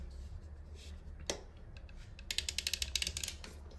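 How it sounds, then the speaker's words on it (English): A ratcheting tool tightens a fitting while a toilet is being installed. There is a quiet click and a short scrape, then a quick series of close, rhythmic ratchet clicks. "now I'm just going to take my ratcheting tool"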